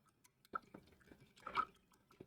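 Paintbrush swished and rinsed in a cup of water during a beginner painting lesson, with a few soft drips and splashes, one brief fuller slosh of liquid in the middle, close and quiet.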